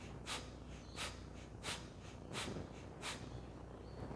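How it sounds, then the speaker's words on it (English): Breath of fire yoga breathing: five sharp, forceful nasal exhalations in a steady rhythm about two-thirds of a second apart, close and fairly loud, with quieter inhales in between and no talking. "breath of fire"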